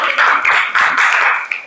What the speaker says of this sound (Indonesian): Baik, tepuk tangan dulu, semua sudah bisa membentuk.